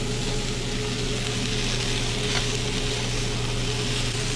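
Already-cooked sausage sizzles in a porcelain-coated pan with no fat, a steady, even hiss and crackle that runs alone throughout.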